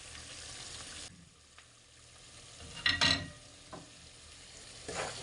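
Spices tipped into a hot frying pan for an aloo recipe set off a loud hiss around the middle, with softer sizzling and stirring before and after.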